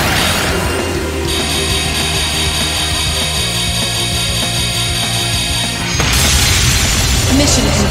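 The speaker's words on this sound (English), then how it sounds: "Orbital laser fire." An orbital laser strike in Trails of Cold Steel II roars as a loud sustained sweeping blast, then surges into a bigger explosive burst near the end, with no talk over it.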